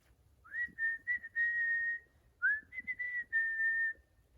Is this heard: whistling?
yes